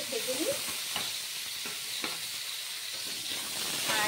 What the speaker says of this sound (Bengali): দেখো মাছগুলো ভাজা হচ্ছে, আমি দুই পিঠ ভালো করে ভেজে নেব।